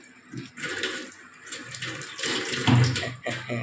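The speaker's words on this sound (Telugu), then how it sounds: "చెయ్య కడిగిస్తాను" Running water splashes steadily as hands are rinsed beneath it, fluctuating as the stream is interrupted and resumes.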